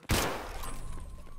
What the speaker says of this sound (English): we need to go because I've shot a scav.